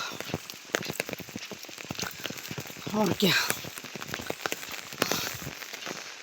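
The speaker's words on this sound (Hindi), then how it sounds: "तो बहुत बारिश हो रही है इस बार।" Heavy monsoon rain in Himachal Pradesh, India, patters steadily on a hard surface with dense irregular drops, while a voice briefly speaks partway through.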